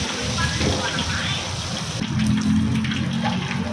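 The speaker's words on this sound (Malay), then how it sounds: "kita tuang sebanyak 2 sudu bancuhan tepung" Flour batter is poured into hot oil in a wok for fried chicken, giving a steady loud sizzling hiss that swells briefly as more goes in, with a voice speaking over it.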